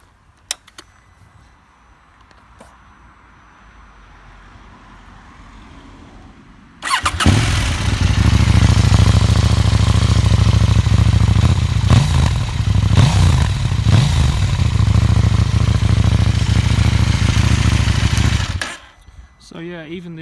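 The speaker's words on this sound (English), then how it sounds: "the stock exhaust sounds fantastic" A 2019 KTM 790 Duke engine fires up and idles loudly and steadily through its stock exhaust for about ten seconds, a deep throaty rumble, then shuts off abruptly.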